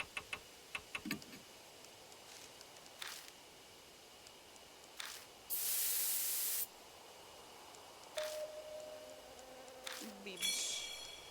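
In the horror game Death Mark, a spray sound effect bursts out as a loud hiss lasting about a second, set among soft ticking clock sounds, other quiet game noises and brief effects.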